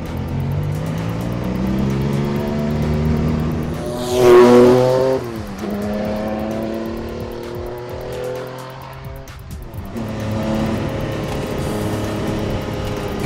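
Porsche 962 Le Mans race car with a turbocharged engine pulls hard through the gears, rising harsh engine notes climbing in pitch, a sharp gearshift and whoosh around four seconds, then renewed acceleration, loud and close with no talking.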